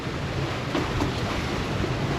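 A catamaran under sail off Arnhem Land, with constant rushing wind buffeting the microphone and waves surging around the hulls, loud and unbroken.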